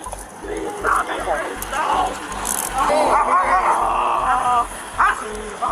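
A police dog barks and yelps excitedly during a chaotic roadside confrontation, its barks repeated and mixed under loud, overlapping shouting voices.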